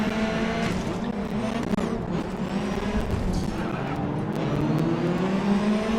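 Race cars in Grid Autosport roar together in a dense pack through a corner, engines droning steadily at high revs with tire squeal and shifting pitches throughout, loud and continuous.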